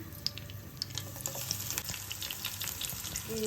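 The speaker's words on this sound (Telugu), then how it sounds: "ఆయిల్ వేడెక్కింది దీంట్లో ఆవాలు వేస్తున్నానండి" Mustard seeds drop into hot oil in a home kitchen pan, giving a faint, steady sizzle with light crackles and a few scattered pops, heard up close with no talking.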